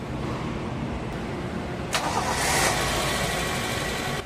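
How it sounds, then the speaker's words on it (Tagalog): A Toyota Corolla engine cranks briefly and catches, then settles into a steady, close idle rumble after an oil seal and timing belt replacement. "tapos start ko ulit itong makina"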